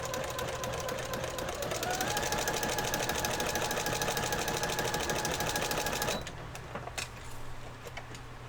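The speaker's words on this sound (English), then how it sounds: "But this one I'm just going to just sew." A sewing machine runs steadily as it stitches a quilted journal cover, its motor hum and fast needle rhythm close and continuous for about six seconds, then stopping, leaving faint handling clicks.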